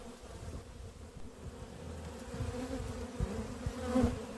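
Honeybees hum and buzz around an opened hive during cleaning, a soft continuous drone with faint knocks and handling noises, fairly quiet and without talk.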